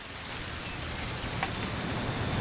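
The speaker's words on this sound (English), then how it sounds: "It's gonna rain the whole weekend," Steady rain falls in What Remains of Edith Finch, an even, dense hiss of drops on surfaces that holds constant throughout, fairly loud and without voices.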